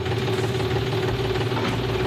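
A 75 hp Harvestar tractor engine runs at night with a steady low rumble and a continuous mid hum, unbroken and fairly loud, with no talk.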